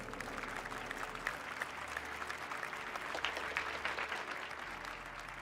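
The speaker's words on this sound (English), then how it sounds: "Give up applause to Team Vitality, the local heroes" Applause and crowd noise fill an esports trophy ceremony arena for Team Vitality, a dense, steady wash of clapping and cheering heard from a distance at low level.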